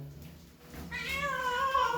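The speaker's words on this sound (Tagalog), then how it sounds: "Matitindi to sila, matatapang na pusa to." A fierce imported cat lets out a drawn-out, rising meow, loud and close after a quiet start, with a harmonic, strained tone and no talk over it.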